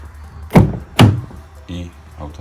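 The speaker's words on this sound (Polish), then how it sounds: "Natomiast zamknę auto." Door mechanism on a Skoda Octavia 3 front door with its lock module, heard as two loud, close thuds about half a second apart, followed by softer mechanical clicks and rattles.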